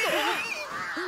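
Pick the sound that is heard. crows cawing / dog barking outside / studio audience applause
crows cawing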